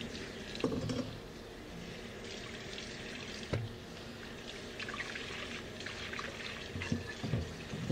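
Water runs steadily from a kitchen faucet while a bowl is washed with soap in the sink, with a few soft clunks and splashes over the flow.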